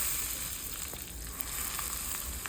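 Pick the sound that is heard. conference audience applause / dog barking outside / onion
onion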